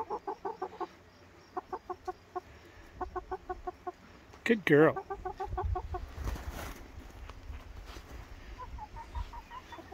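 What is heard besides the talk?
chickens clucking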